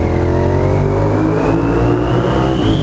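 A Suzuki SV650 V-twin motorcycle exhaust drones loud and throaty inside a tunnel, rising steadily in pitch as the bike accelerates, with strong echoing low rumble throughout.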